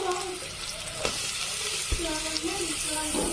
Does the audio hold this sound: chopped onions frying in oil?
yes